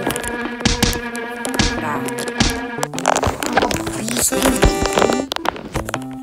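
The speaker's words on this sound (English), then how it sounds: "Three bee stings on your face." Cartoonish insect buzzing from bees in the mobile game Dumb Ways to Die, a busy electronic drone that runs steadily through the whole stretch over game music and effects.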